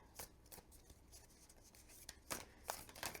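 Matte-finish tarot cards are shuffled by hand close up, giving quiet papery riffs and soft slapping bursts in an irregular rhythm, with louder clusters near the end.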